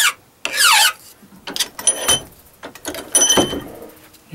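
Hand file rasping burrs off the edges of a metal VHF/UHF quarter-wave antenna element, several short scraping strokes in bursts with pauses as the piece is rotated, close and fairly loud.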